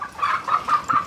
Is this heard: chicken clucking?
yes